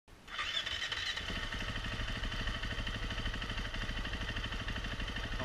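A 2016 KTM 350 EXC-F dirt bike engine starts with a brief crank, then catches and runs steadily at a fast, even idle with a whining tone, loud and close, with no talking.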